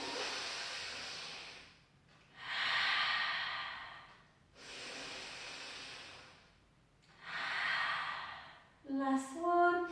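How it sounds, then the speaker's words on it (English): Slow, deep breathing during a Pilates class, several long airy inhales and exhales in a steady rhythm, close and fairly soft, with a brief voice at the end. "Take a big breath in."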